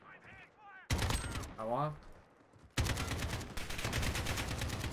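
AK rifle gunfire in Call of Duty Modern Warfare Gunfight: two loud sustained automatic bursts, the second running to the end, with a player speaking briefly between them.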